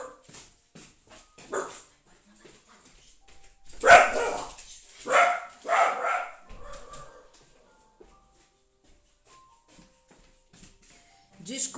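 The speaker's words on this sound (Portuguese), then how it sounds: "Só um minutinho que tem uma cachorra aqui querendo sair." A dog barking and whining indoors to be let outside, with a few yips and barks rising in a cluster near the middle, while someone talks nearby.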